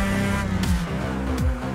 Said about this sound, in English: Little skid there through turn three